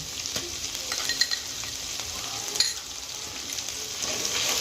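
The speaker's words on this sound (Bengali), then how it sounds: "ভালো করে মশলাটাকে কষিয়ে নিয়ে এবারে আমি পোস্ত মগজদানা কাজু বাদাম বাটাটা দিয়ে দিলাম" A paste of poppy seeds, melon seeds and cashews fries with masala for a gandharaj rohu fish dish, giving a close, steady sizzle broken by a few scraping stirs.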